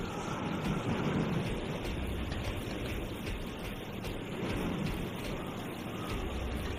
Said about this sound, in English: The rain effect and the train movement is crazy, right?